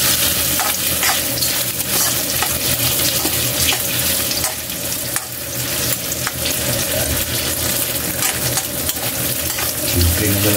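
Fishballs and onions cook in a pan with a steady, dense sizzle throughout, overlaid with scraping, stirring and clattering, near and loud, with no talking.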